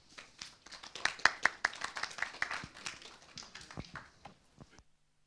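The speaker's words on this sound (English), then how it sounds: "I'd like to welcome him to the front with a loud round of applause" A small audience applauds to welcome a speaker to the front at a talk on elevating the soul: scattered, fairly sparse claps over about five seconds, moderately near, then stopping abruptly.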